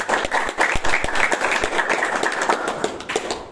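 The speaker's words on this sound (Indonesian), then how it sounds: "Kita beri tepuk tangan dulu dong buat pembicara kita" A school esports event audience claps for the speakers, loud close-up applause with sharp individual claps standing out, fading slightly toward the end.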